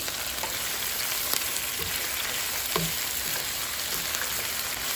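Chicken liver frying in a pan over softened, reddened onions, a steady close sizzle and crackle with occasional soft stirring clatters, no talk.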